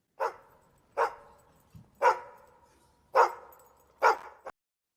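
A dog barks five times in sharp, evenly spaced single woofs, clear and close against silence, played as a segment sound effect.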